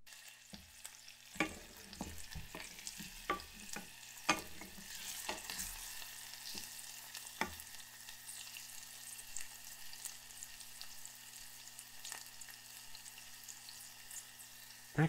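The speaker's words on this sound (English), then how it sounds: "we're gonna saute some garlic in some olive oil, and then afterwards, some onions" Garlic and then onions sautéing in olive oil, a soft steady sizzle broken by frequent sharp scrapes and stirs of a utensil in the pan, close and fairly quiet.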